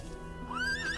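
A horse in the Trails of Cold Steel II video game gives a rising, loud whinny over a steady game background, with hoof clip-clop implied beneath.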